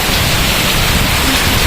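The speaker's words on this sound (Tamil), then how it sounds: "செம்ம மழை பெய்யுது." Heavy rain pours steadily with strong wind during a downpour in Chennai, a dense, loud, unbroken hiss with no voices.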